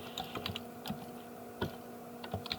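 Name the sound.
typing on a computer keyboard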